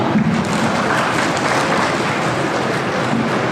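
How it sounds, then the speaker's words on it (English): Audience applause at a school debate competition, steady and dense clapping that fills the room continuously for a few seconds with no talking. "A huge round of applause for Shivam"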